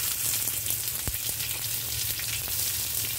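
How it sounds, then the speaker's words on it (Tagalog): White onion sautéing in a little oil crackles with a steady, close sizzle, broken by a single sharp knock of a utensil against the pan. "Igisa lang natin yung ating white onion"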